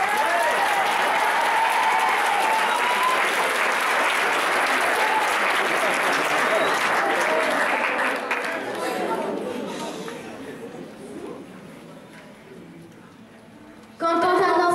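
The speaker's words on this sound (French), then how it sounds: "On les applaudit." An audience applauds a children's slam performance in Bobigny with loud, sustained clapping and some chatter, which gradually dies down into quieter murmuring and shuffling before a sudden louder burst at the very end.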